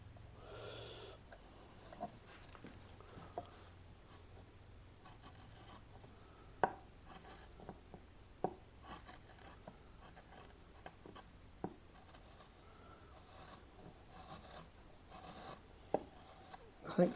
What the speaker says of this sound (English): Got a little more control with a heavier chisel.